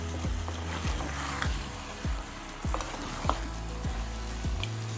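Mutton curry with chili powder stirred in a hot pan, with steady sizzling and a regular series of scraping stirs and thuds, close and fairly loud, with no talk.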